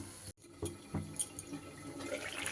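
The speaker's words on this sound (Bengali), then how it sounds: "সবজি সেদ্ধ হওয়ার জন্য জল দিয়ে দিলাম।" Water is poured into a pan of vegetables for boiling, a brief gush and splash after a short silence, followed by gurgling and bubbling water, close and fairly quiet.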